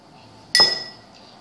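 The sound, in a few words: spoonfuls of sugar being added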